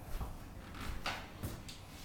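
A drawer in a manufactured home slides open or shut, with a few soft wooden knocks and scrapes spread over two seconds, fairly quiet and close.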